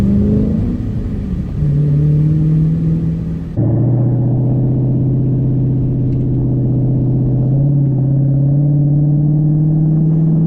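A 2023 Dodge Challenger R/T Scat Pack Widebody with a Hemi V8 and six-speed manual accelerates hard, its deep engine note climbing steadily, breaking off at a gear change, then pulling again in a loud continuous drone.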